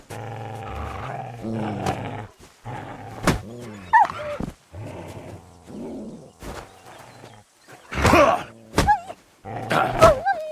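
A dog barks and growls in Kingdom Come: Deliverance II, a run of rough, loud barks in separate bursts with short gaps, some harsh and snarling, the last few louder and more ragged.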